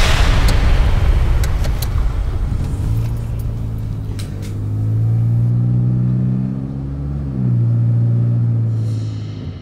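A luxury sedan's engine hums steadily as the car drives, with a low rumble that swells and eases as it accelerates, heard near and alone.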